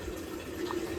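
Water pours steadily into an earthen clay pot, a soft continuous gurgle close by with no talking.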